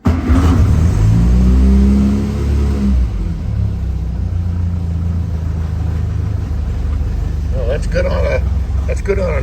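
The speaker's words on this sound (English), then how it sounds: "Little test drive, not necessarily a test drive, but just to kind of warm up the engine" Carbureted A-series car engine with SU HS2 carburetor, revving on a cold start while warming up: a loud rising rev at the start that falls back to a steady rumbling idle, with brief voices near the end.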